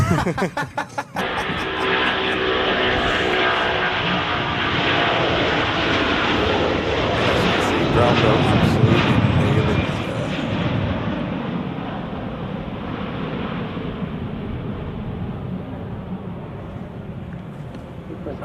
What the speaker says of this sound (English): Enjoy this takeoff here, ladies and gents.